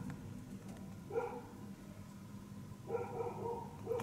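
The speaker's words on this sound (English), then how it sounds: "There's my dog Juno barking away in the background." A dog barks in the distance beside a cactus and succulent greenhouse, two faint short bursts of yapping barks separated by a pause.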